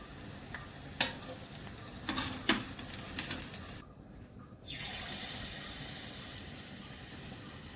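Palm fritters (taler bora) sizzle in oil as they are lifted out, with a steady bubbling hiss and several sharp scrapes and clinks of a utensil. One brief pause near the middle, and no speech.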